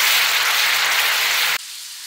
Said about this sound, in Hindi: इसमें लहसुन अदरक का पेस्ट डालना है। मीडियम फ्लेम पर भूनना है।